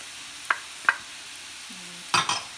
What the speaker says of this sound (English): Finish sauteing.